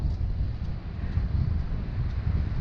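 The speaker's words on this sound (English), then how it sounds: "But we got a steady 20-mile-an-hour winds." Steady, low wind rumble of a 20 mph beach wind buffeting the microphone, constant and fairly loud, with no voices.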